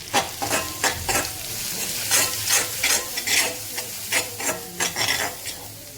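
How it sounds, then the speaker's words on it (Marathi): Red chilli powder and turmeric sauté in oil for a dry Maharashtrian chicken dish, with a spoon scraping the pan in repeated rhythmic strokes over a constant background sizzle. "आपण आपले लाल तिखट आणि हळद जरा परतून घेतलंय"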